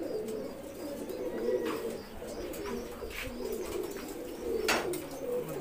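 Many pigeons cooing in a loft, soft overlapping coos that keep up throughout, with a few sharper bird calls rising over them.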